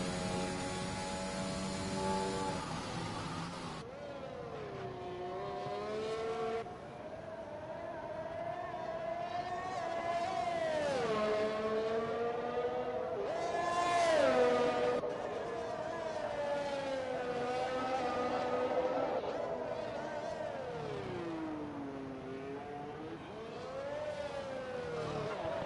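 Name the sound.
race car engines at Monaco in a racing video game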